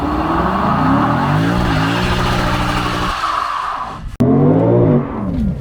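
A Lexus IS 500 scrubs its tires before a launch, its engine revving steadily with rising and falling pitch, loud and close, then briefly dropping off and picking back up.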